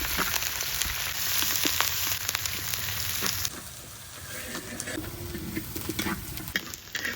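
Chopped onion, onion paste, cumin seeds and bay leaf sizzle steadily in a little oil for a rohu fish curry, a loud close frying hiss with occasional stirring, no one talking.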